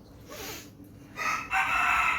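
A rooster among morning chickens crows nearby in two drawn-out bursts, the second one louder and longer.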